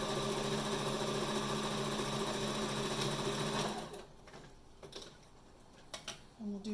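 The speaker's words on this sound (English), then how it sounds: "We're going to start with the machine with a standard straight stitch" Sewing machine running a standard straight stitch on mask fabric, a loud steady whirring hum for about four seconds that then stops, leaving faint handling clicks and rustles.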